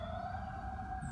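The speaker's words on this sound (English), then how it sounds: "Sorry for the sirens." Emergency vehicle sirens wail steadily outdoors, a sustained tone that fills the moment, fairly distant and faint, with low traffic-like rumble underneath and no speech.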